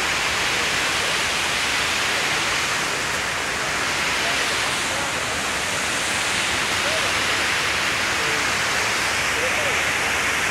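A waterfall in the Philippines roars as a dense, steady, close rush of water, loud and unbroken throughout, with voices faintly beneath it.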